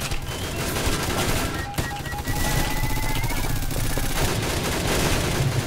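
Rapid automatic gunfire bursts in the Roblox game Ragdoll Universe rattle on almost continuously at moderate level, with a brief gap partway through and faint game sounds mixed in.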